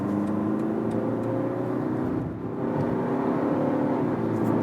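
A BMW 118d with a 2-liter four-cylinder diesel accelerates hard, its engine drone rising steadily in pitch from the cabin, dipping briefly at a gear change before climbing again, loud and continuous with no talking.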